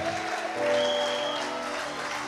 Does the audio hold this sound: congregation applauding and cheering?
yes